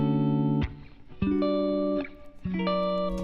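Electric guitar through a software amp simulator on a clean preset plays a few sustained notes and chords that ring out and change roughly every second, with no talking.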